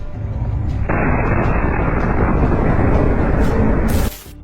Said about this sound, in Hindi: इस बुलडोजर में भी जोरदार तरीके से एक धमाका होता है